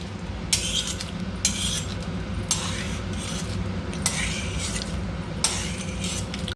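Fried dried red chillies for coconut chutney scooped from a pan onto a plate, a steady low kitchen hum broken by about six sharp metal scraping strokes roughly a second apart.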